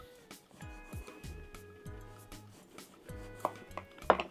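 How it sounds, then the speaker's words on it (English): A knife slicing through an orange on a board, soft repeated cutting strokes and board taps at close range, quiet and irregular, with a couple of sharper clicks near the end and a faint background hum. "Then we're gonna cut some of the orange."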